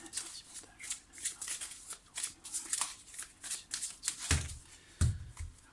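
Tarot cards are shuffled by hand in quick repeated riffling bursts, close and fairly soft, with two louder thumps near the end.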